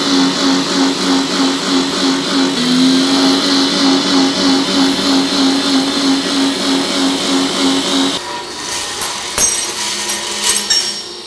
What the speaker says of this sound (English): The workpiece has now been transferred to the end of the machine for unloading, using the gantry to lift and move.